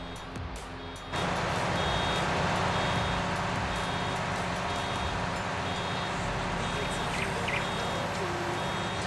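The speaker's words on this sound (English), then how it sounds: "The beeping on this thing's so faint, even in cab." A farm vehicle in Farming Simulator 19 reverses, its backup alarm giving faint, repeated beeps beneath a steady engine rumble heard from inside the cab.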